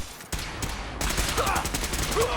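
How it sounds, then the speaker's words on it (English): Gunfire in Fallout 4, with junk bots fighting Rust Devils: dense, continuous bursts of shots, loud and close, rattling on without pause after a brief lull at the start. "What are you all shooting at?"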